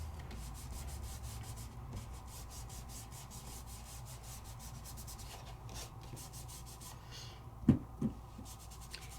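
Gold Sizzix Luster Wax is rubbed onto chipboard in a quiet, continuous run of soft, rhythmic scrubbing strokes, ending with a couple of faint taps.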